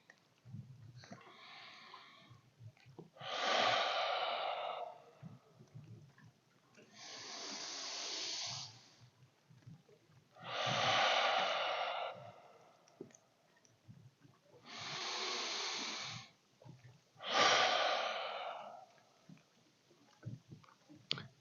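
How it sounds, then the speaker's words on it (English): Slow, deep breaths drawn in through the nose and pushed out through the mouth, repeated in steady cycles about every two to three seconds. The airy inhales and exhales are close and clear, with no talking. "in through your nose, out through your mouth 3 times, all the way to get rid of all that stale air"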